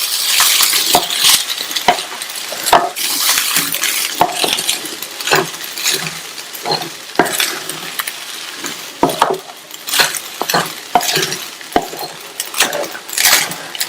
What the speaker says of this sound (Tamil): ஸ்டவ் சிம்ல வச்சுட்டு ஒரு 4 நிமிஷம் போல நல்லா ஒண்ணா மிக்ஸ் பண்ணி விடுங்க